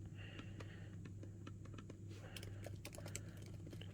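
Fast, steady tapping on a spill-resistant AMD laptop keyboard, quiet and close, the clicks running in irregular bursts over a low hum, with no voices.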